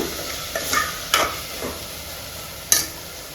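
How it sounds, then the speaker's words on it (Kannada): Lentils (dal) added to softened cooked tomatoes in a pan for drumstick dal sambar, with a soft steady sizzle broken by several brief clinks and scrapes of a spoon against the pan. "ಬೇಳೆ ಹಾಕ್ತಾಯಿದ್ದೀನಿ ನೋಡಿ."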